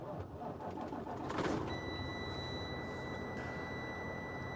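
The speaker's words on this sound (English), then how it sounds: "turn the key to the on position, wait for the startup cycle to happen, and safely start the vehicle" A truck engine cranks and settles into a steady idle at the start of a pre-trip check in a truck cab, with a rush of noise followed by a continuous tonal beep or whine from the dash.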